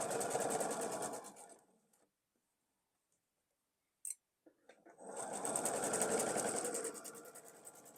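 A sewing machine stitches a quilt block seam in a fast, even mechanical chatter, running for about two seconds, pausing through near silence with a brief click, then starting again for a longer run.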